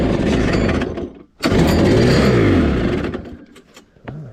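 A small Arctic Cat Kitty Cat snowmobile engine revs loudly up close, dips briefly, then roars again in a rising and falling buzzy whine before tapering off.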